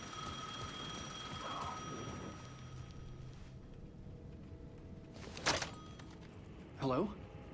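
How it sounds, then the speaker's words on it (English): A telephone rings in the Alan Wake II video game, with faint, thin bell-like tones over a dim ambient bed and a couple of brief louder bursts later on. "The phone was ringing again"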